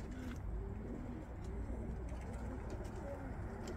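Pigeons coo softly in a coop. The low, repeated calls overlap against a steady background hum and stay faint throughout.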